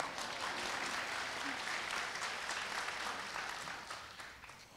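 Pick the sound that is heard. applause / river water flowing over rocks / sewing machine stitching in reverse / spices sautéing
applause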